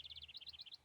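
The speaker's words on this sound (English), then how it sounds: "Chirp chirp tweet." Cartoon morning birdsong from the video game Blue Archive: a quick, evenly spaced run of about a dozen bright high chirps, light and clean, alone without speech.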